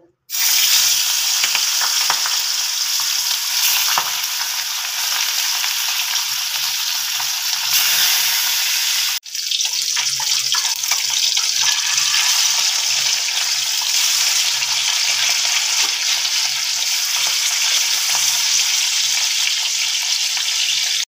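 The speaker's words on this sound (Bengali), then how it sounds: "এবার একটু হালকা করে ভেজে নেব, খুব বেশি কড়া করব না" Pieces of catla fish, rubbed with salt and turmeric, fry lightly in hot oil with a loud, steady sizzle throughout, briefly dipping once before surging back.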